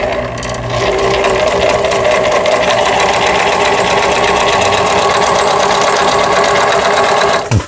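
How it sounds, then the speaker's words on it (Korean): A repaired Riccar 3800 household sewing machine fitted with an industrial hook runs a straight stitch, giving a loud, steady, close mechanical whir and rapid clatter that holds for about seven seconds before stopping. "공업용 가마를 끼워서 장착해서 쓰는 리카 미싱. 직선 바느질이 일단 나오지 않았는데 지금 해결이 됐습니다."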